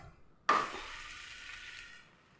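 Oats chapati cooking in a pan over a low flame, a sudden sizzle as it is flipped onto the hot surface, then a steady soft frying hiss that fades, quiet and close.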